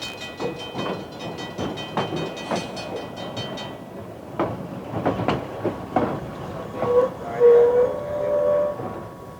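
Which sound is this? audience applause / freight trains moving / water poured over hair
freight trains moving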